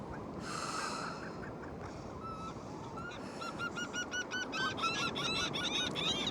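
Seagulls call repeatedly outdoors, a series of harsh honking cries that grow denser and more rhythmic toward the end, heard over steady wind or surf noise with no talking.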